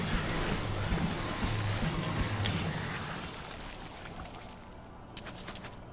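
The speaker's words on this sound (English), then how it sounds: "Rain of Toads, Rain of Toads. Everybody loves the Rain of Toads." Rain of Toads spell in a video game, a steady patter of many small falling impacts like heavy rain, loud throughout and thinning out toward the end, with a few sharper splats near the finish.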